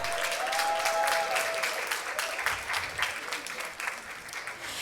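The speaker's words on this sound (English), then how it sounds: "Let's give her a round of applause." An audience at a literacy coalition symposium applauds, a dense steady clatter of clapping that fades slightly toward the end, with a brief voice heard over it at the start.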